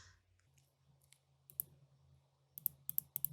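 Sharp, faint computer mouse clicks close by, scattered singly and then in a quick cluster of several near the end, over a quiet background hum.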